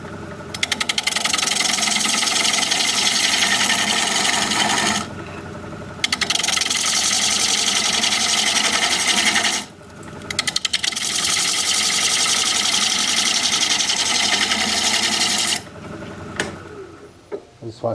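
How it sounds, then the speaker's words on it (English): A spalted sycamore bowl spins on a wood lathe at 675 RPM while a 5/8 inch standard grind bowl gouge cuts it, giving a loud continuous rough hiss and chatter broken by a few brief pauses, with no talk. "I'm going to be using a 5/8 inch standard grind bowl gouge. We're going to be turning at 675 RPM."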